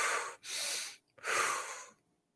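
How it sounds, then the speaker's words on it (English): Two quick, forceful breaths during a guided breathing exercise, each drawn in through the nose and pushed out through the mouth, close and clear, with a short pause between them and silence after. "we'll begin that quick breathing"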